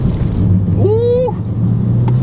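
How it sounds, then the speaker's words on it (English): A turbocharged 400 WHP car's blow-off valve lets out a brief rising-then-falling whoosh over a constant engine and road rumble inside the moving car. "You hear that blow-up valve, though?"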